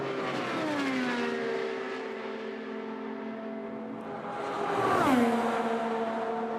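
An IndyCar race car at full speed during Indy 500 practice, its high-pitched engine screaming steadily with gear-change pitch drops and a louder surge near the end.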